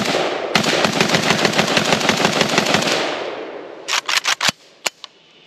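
A Polish PAC Pioneer AKM Sporter rifle fires a fast, sustained automatic-sounding string of sharp cracks for a few seconds, followed after a pause by several separate single shots, loud and close on an outdoor range.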